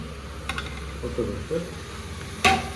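Mushrooms fry in a pan for mushroom biryani, with a steady low sizzle broken by a few clinking stirs of a utensil against the pan and one sharp scrape near the end.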